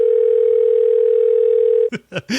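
A telephone dial tone hums loud and steady for almost two seconds, then cuts off as a voice begins speaking.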